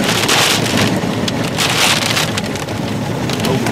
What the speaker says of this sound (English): Watch out, you got hail.